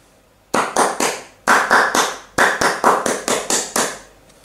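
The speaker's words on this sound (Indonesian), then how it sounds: "Mari kita tutup dengan tepuk pramuka." Scouts perform the tepuk pramuka, a rhythmic scout clap: crisp, close, loud hand claps in short patterned bursts with brief pauses between groups, and no talking.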